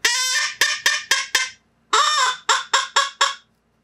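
A human voice imitates the call of a blue-winged teal hen, a series of short raspy nasal quacks in two bursts, the first longer note followed by quicker clipped ones, loud and close.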